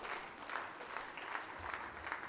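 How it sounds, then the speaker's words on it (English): Wrestling arena crowd noise during an international singles match, a steady low roar of fans with rising cheers and scattered claps building through the clip, moderately distant and continuous without speech. "Crowd coming alive for Collyer."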